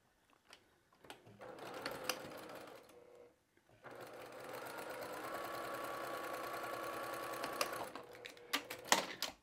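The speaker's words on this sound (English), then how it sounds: "I'm going to sew through one side, backstitch, cut my thread, spin it around, and just line up the other side." Sewing machine stitching batik fabric triangles onto a square, running in two steady bursts of rapid mechanical whirring separated by a short pause, close and clear with no talk.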